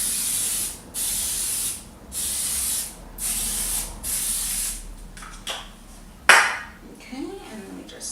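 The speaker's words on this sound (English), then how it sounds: "you gotta spray the top so it doesn't stick again" Several short bursts of aerosol cooking spray hiss over the top of a pot pie dish in a steady rhythm, close and fairly loud, followed by a few clattering handling sounds.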